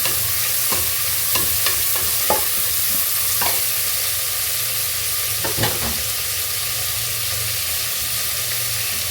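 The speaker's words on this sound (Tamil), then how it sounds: "இந்த 2 வெங்காயம் நல்லா ஃப்ரை ஆகணும்." Onions stirred and fried in a pan for soy chunk biryani, a steady bright sizzle running throughout with several sharp scrapes of a spoon against the pan, close and alone with no voices.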